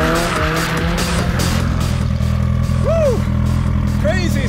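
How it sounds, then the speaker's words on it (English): Cars drift at the Kouvola racetrack with a loud, close engine roar and sustained rising tire squeals, people talking over the noise. "we're at the world famous Kouvola racetrack, doing some drifting with cars and seeing what that feels like"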